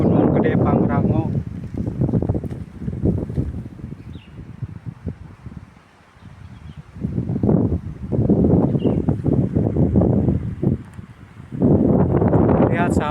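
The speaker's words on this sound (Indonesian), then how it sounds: "Lihat sahabat, di sini anginnya sangat kencang." Strong, cold wind blusters at the foot of Mount Gede Pangrango, rumbling against the microphone in gusts under someone talking nearby.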